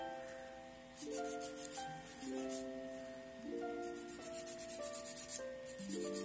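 Filing an acrylic nail overlay: soft rasping strokes that become a quick, rhythmic back-and-forth scrubbing toward the end, faint under steady background music.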